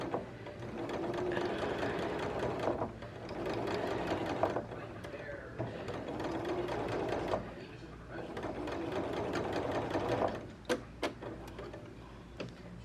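A sewing machine stitches backward to lock a seam on a Burda 5803 sewing basket project, its needle motor whirring steadily in long runs with brief pauses and a few sharp clicks near the end.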